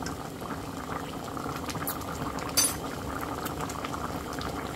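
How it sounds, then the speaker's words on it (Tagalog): Chicken curry bubbles at a steady, continuous boil in a pot, a close, even simmer throughout with one brief sharp clink partway through. "Pakuluan lang natin saglit."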